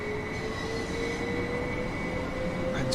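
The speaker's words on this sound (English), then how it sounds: "Bye bye train." A four-car train pulls out of a station heading for Brighton, its wheels letting out a long, steady high-pitched squeal over a continuous rumble of rolling stock close by.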